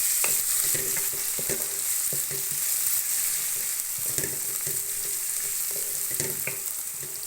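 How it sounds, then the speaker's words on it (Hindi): Ginger garlic paste frying in a pan gives a continuous sizzle, with occasional scraping stirs and small clicks, close and fairly loud. "माशाल्लाह ये ब्राउन हो गया है तो इसमें लहसुन अदरक का पेस्ट डाल दें"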